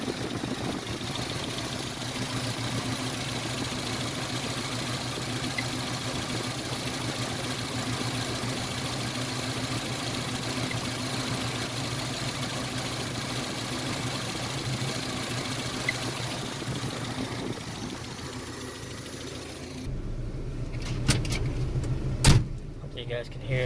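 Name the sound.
1986 Nissan D21 truck idling, AC clutch kicking in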